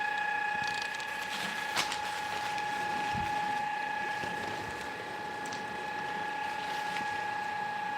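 A freshly assembled burner blower running with an imbalance that makes it shake, giving a steady whirring hum with a rattling, ratchet-like mechanical clatter throughout, fairly quiet and continuous.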